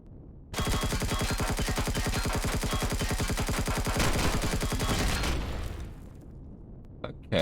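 Enemy gunfire in Empyrion Galactic Survival rattles out as a long, rapid, evenly spaced automatic burst lasting about five seconds, loud and close, then tapering off into a faint mechanical hum with a couple of small clicks.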